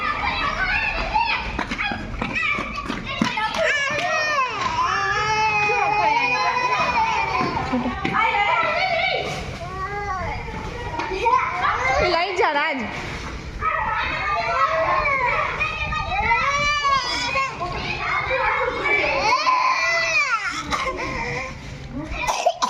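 A child cries and whines on and off amid a busy stretch of children's voices and chatter, loud and close, with occasional coughs mixed in.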